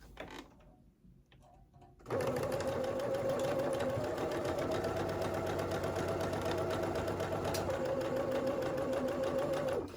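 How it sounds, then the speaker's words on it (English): A sewing machine stitches a dart in fabric for a summer halter maxi dress, starting after two seconds of near silence and then running as a steady, even mechanical whir close by until the end. "So we're going to stitch, regular stitch from the raw edge at the start of the dart all the way down the leg of the dart"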